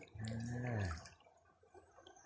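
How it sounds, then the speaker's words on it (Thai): Water flowing across the way at a winter fishing spot where fish are caught with a lift net, heard as a quiet, steady rush and trickle with a brief louder burst at the start. "น้ำไหลอยู่ฝั่งนู้นครับผม"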